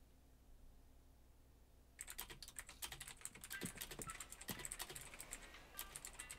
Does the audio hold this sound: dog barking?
no